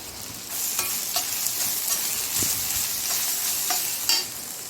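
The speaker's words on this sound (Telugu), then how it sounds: "ఇక్కడ పల్లీలు, పచ్చిమిరపకాయలు, టమాటోస్ మగ్గుతుంది" Peanuts, green chillies and tomatoes cook in a pan with a steady, close, bright sizzle, marked by a few light clicks and taps from stirring.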